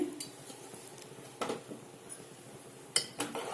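Soaked basmati rice stirred in boiling water in a pot, several sharp metal clinks and scrapes of a spoon against the pot over a quiet bubbling background.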